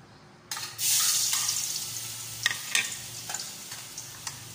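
Garlic sautéing in oil in a pan, a sudden loud sizzle as it hits the heat, then a steady hiss with occasional stirring scrapes and pops.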